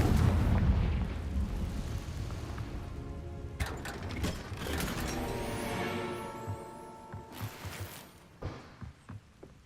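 Confringo fire spell explosions burst in the Hogwarts Legacy video game: a loud rumbling blast at the start, then a series of further booms and crackling impacts with mechanical clatter, tapering off into quieter thuds near the end.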